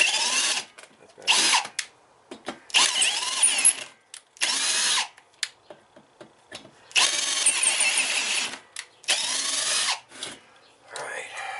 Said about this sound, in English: This drill screwed up, but it works.